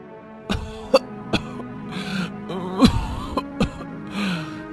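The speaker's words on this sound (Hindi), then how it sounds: "ये कैसी खांसी है?" Several harsh, wet coughs from a person in a Hindi story, coming in irregular bursts with a few throat-clearing sounds and breathy gasps between them, close and alone without speech.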